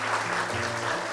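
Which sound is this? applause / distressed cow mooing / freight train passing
applause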